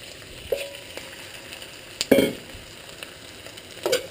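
Chicken breast sizzles softly in a pan while pancit canton is cooked, and sharp clanks of a utensil against the pan break in three or four times.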